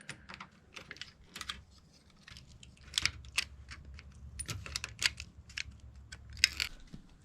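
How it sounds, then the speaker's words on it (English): Clear PVC plastic being cut to make holes in a battery-box lid gives sparse, quiet, close clicks and snips in irregular bursts, with short pauses between them. "And then we need to cut out these holes again in the clear PVC."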